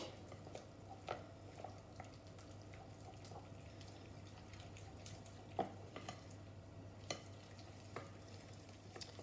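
An egg being stirred into dried choux pastry dough in a mixing bowl: faint, irregular wet slaps and scrapes with a few sharper knocks against the bowl, no one talking.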